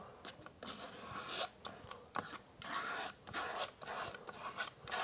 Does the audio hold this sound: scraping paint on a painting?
yes